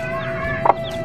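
A mother hen with her four-day-old chicks gives one short, close cluck over a soft background.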